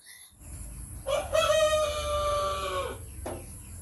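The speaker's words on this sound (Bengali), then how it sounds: "আমার মুরগগুলোকে এই ঘরে রাখা হয়। তো আমার নাম শুনলে ওরা ডাকাডাকি করে।" A rooster crows once in a loud, drawn-out call held in a shed where the chickens are kept, with a rough, brief squawk from another bird following near the end.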